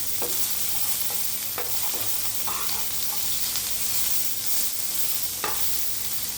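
Onion, tomato and coconut pieces sautéed in a pan for chutney give a steady, close sizzle with scraping stirs and occasional clinks, and nobody speaks.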